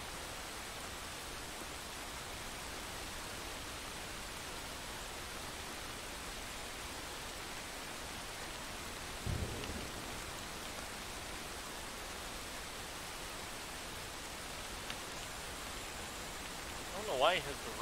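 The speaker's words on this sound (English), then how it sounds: "I don't know why he has the rain turned on." Steady rain effect switched on in a video game, a constant hissing wash of falling rain filling the whole stretch, with brief faint voice bursts partway through and near the end.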